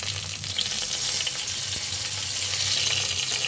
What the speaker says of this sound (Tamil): கடுகு நல்லா பொரிஞ்சதுக்கப்புறம் கறிவேப்பிலை ஆட் பண்ணி அப்படியே காஞ்ச மிளகாய் ஆட் பண்ணிக்கிறேன்